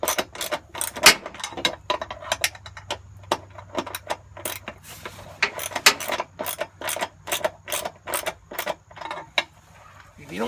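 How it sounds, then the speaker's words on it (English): Running board bolts being tightened on a vehicle with a ratchet, a quick run of dry mechanical clicks in uneven bursts with short pauses, close by and with no talking. "Just tightening up these bolts."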